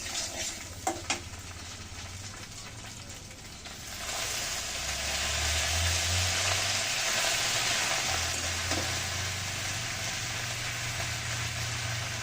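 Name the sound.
leafy greens frying in pan with fried hilsa fish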